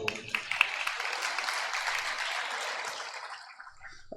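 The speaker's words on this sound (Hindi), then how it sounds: "आपने तो उसमें भी ताली बजा दी, इसमें भी ताली बजा दी" An audience claps together during a Jain sermon by Muni Kunthusagar, a steady wash of applause that holds for several seconds and slowly thins out at the end.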